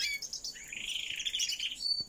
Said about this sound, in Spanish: aún los pajaritos, estos también son de este año.